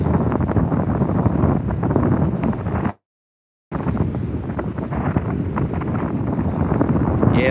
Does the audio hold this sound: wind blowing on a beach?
yes